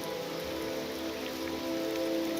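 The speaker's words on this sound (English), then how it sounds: "It's still raining." Steady rain from the video game The Elder Scrolls III: Morrowind pours down in a constant hiss, loud and even, alone with no talk.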